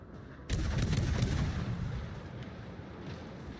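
Naval guns fire in the World of Warships Legends game: after a quiet moment, a loud, booming blast erupts with a heavy low rumble that slowly decays into a rolling tail.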